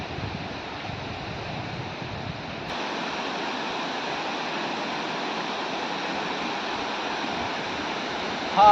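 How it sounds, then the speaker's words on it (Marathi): Water flowing steadily at a dam during the monsoon, a continuous broadband rushing that holds at an even level from nearby, with no voices over it. "आणि त्या ठिकाणी किती छान वाटायला ना आवाज पाण्याचा आवाज"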